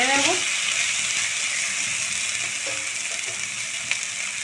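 Spices with salt and sugar frying in a pan for a katla fish curry with potatoes, stirred around, a dense continuous hiss of sizzling oil, close and steady, with a brief voice at the start.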